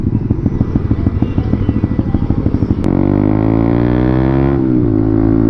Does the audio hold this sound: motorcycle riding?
yes